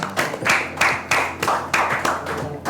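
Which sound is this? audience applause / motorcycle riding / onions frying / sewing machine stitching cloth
audience applause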